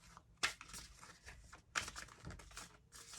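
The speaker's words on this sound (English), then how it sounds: "Let's give them a good shuffle." A deck of tarot cards being shuffled, with two sharp riffling bursts and softer papery rustles and crinkles in between, close and fairly quiet.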